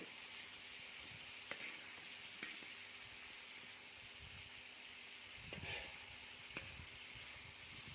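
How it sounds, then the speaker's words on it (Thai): Pumpkin stir-fried in olive oil in a pan, a steady soft hiss of frying with a few light clicks and scrapes of a utensil, fairly faint and without voices. "แล้วก็ผัดไปเรื่อยๆครับ ผัดไป จนฟักทองสุก"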